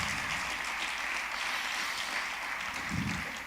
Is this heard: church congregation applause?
yes